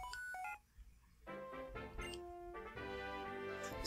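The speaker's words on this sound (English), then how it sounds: "Next gen Steve is ringing." A phone rings in the Pokémon Black video game, a chiptune electronic ringing with bright stepped tones, repeated in short bursts after a brief pause and heard alone without talk.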